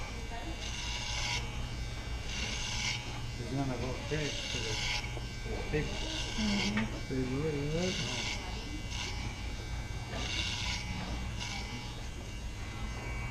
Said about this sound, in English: I just want to take down all this bulk anyways with the same clipper.